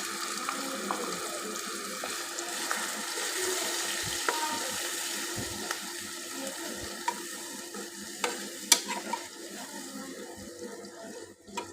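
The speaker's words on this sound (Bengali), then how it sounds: "আমি একটু নেড়ে চেড়ে নিচ্ছি" Ground turmeric, chili and coriander with cumin paste and salt fry in a pan for a fish bhuna curry, a quiet steady sizzle broken by soft scrapes and taps as the spices are stirred.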